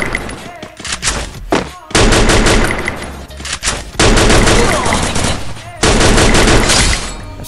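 Loud bursts of automatic gunfire from a shooter video game, coming in separate volleys of one to two seconds with short pauses between them, while voices talk underneath.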